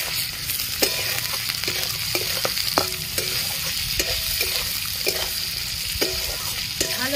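Semolina with winter vegetables fries in a pan, a steady sizzle broken by repeated rhythmic scrapes and knocks of a spoon stirring against the metal, close and without talk.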